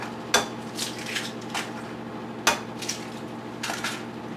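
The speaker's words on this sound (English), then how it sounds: "now we're going to crack our eggs, and we have 5" Extra large eggs are cracked into a bowl: sharp crisp taps against the rim at intervals, each followed by softer wet drips and shell clicks, close up and alone.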